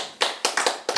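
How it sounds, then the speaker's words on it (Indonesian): Congregation clapping hands at a church sermon, four sharp, fairly loud bursts of claps in quick succession, close and without talk. "Amin, tepuk tangan."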